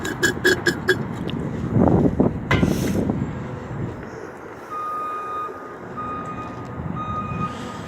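Outdoors in a parking lot, a backing vehicle gives off a regular series of reversing beeps that start partway through, over wind buffeting and a low engine rumble, after a few earlier clanks and thumps.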